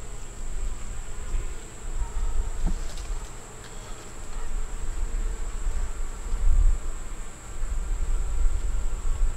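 Honey bees drone steadily around hive frames in a close, continuous buzzing hum, with a few soft knocks and shifts as the frames are handled, and no talking.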